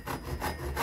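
A hand saw cutting wood in a first-year CAP carpentry exercise, three close rhythmic rasping strokes in quick succession with no talk.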